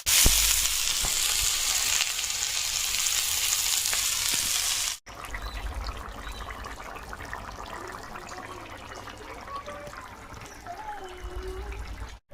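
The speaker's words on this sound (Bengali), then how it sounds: "কালকে যে মাছগুলো পেয়েছিল তো সে মাছগুলো একটু ভেজে নেব" Fish from the river sizzle and spit loudly in hot oil in a Sundarbans home kitchen, a steady frying hiss for about five seconds, then a quieter sizzle with light stirring and clinks.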